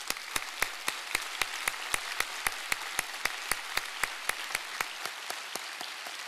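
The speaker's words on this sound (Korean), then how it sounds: "CTS 기독교 TV의 회장 되시는 감경철 회장님이 오셨는데 잠깐 일어나 주시면은 우리 큰 박수로 환영하도록 하겠습니다." Sunday church congregation welcoming a visiting guest with claps falling into a steady unison beat, sharp evenly spaced hits about three per second over a soft bed of scattered clapping.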